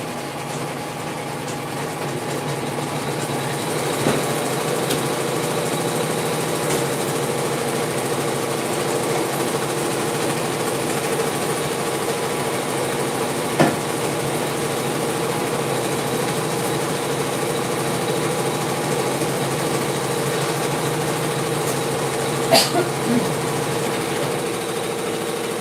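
An embroidery sewing machine stitches vinyl for a clutch held in the hoop, running steadily as a continuous mechanical whir and hum, with a few faint clicks along the way.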